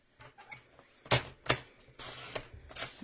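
Blue card stock being cut to size for a card and mini album, heard as a few sharp close clicks and snaps followed by a longer scraping slide, with no talking.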